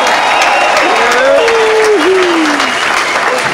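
Concert crowd applauding and cheering for a blues guitarist and his band at a show, a loud continuous roar of clapping with a single voice whooping above it.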